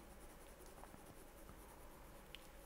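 Soft, steady scratching of a soft, greasy pencil moving easily across paper, quiet and close, with a continuous gentle rasp and faint strokes.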